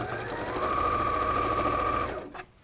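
A sewing machine stitches fabric in a short, steady burst of rapid mechanical whirring, close and clear, before stopping abruptly near the end.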